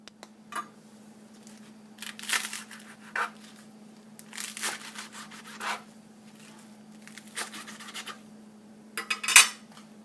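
Vegetables such as lettuce and cucumber being washed, peeled and cleaned in a home kitchen, with intermittent rubbing and scraping strokes, soft handling noises and a low steady hum between them.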